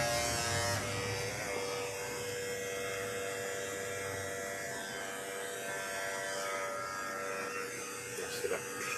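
An electric hair clipper runs steadily in a salon during a scalp and hair session, with a constant buzzing hum throughout and a few faint handling clicks near the end.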